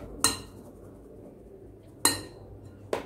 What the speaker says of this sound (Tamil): இப்படியே வந்து கலக்கிட்டே இருக்கலாம்